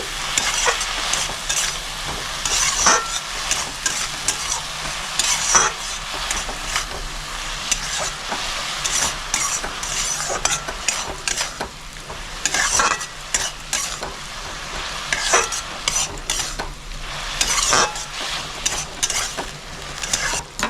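Red spinach with turmeric and slit green chillies stirred in a hot pan, a continuous sizzle broken by repeated scraping and clattering spoon strokes, loud and close, with no voices.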